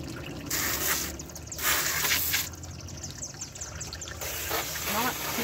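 Water trickles and splashes off an air conditioner coil in uneven bursts, some louder spray passes alternating with softer dribbling, with a voice talking intermittently underneath.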